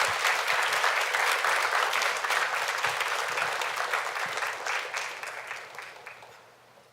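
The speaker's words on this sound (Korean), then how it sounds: "우리 한번 힘찬 박수로 모시겠습니다" A church audience bursts into loud, sustained applause to welcome a speaker to the stage, the dense clapping holding strong before gradually thinning and fading away.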